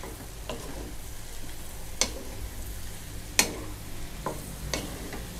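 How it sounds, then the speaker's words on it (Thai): Champignon mushrooms being stir-fried in a pan for a cream of mushroom soup, with a steady low sizzle and a few sharp spatula scrapes and clicks spaced across the stretch, close by and with no talking. "เริ่มผัดได้เลยนะครับ"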